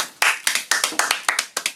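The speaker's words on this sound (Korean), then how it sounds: "다시 한 번 박수" A small audience claps in quick, loud, uneven bursts, with several sharp hand claps in under two seconds and no talking.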